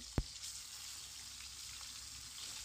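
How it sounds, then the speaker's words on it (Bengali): Steady, close sizzling of fish frying in hot oil, with one sharp clunk near the start and the crackle continuing evenly. "তাই চুলোতে মাছ ভাজাটা বসিয়ে দিলাম"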